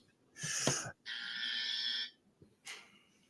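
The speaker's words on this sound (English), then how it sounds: "I didn't even mean to hit the buzzer." A game show buzzer on a holiday quiz podcast sounds as two loud, steady electronic buzzes, the second longer, then a brief trailing burst.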